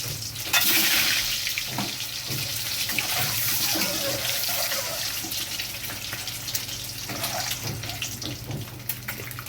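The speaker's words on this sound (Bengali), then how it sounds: "আমি এবার ডিমগুলোকে ভেজে নেব।" Eggs frying in hot oil for an egg curry with taro, a continuous hissing sizzle that starts abruptly and holds steady, close and unaccompanied by speech.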